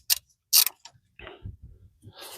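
Sharp metallic clicks of a 12mm wrench undoing a brake caliper bolt on a Ford Fiesta Mk7, two bright ratcheting bursts followed by lower clunks and scraping as the bolt loosens, close up with no talk.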